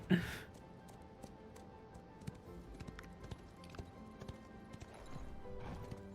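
In the video game Ashes of Creation, a horse's hooves make soft, steady clip-clop beats, faint under ambient game sounds, following a brief whinny at the start.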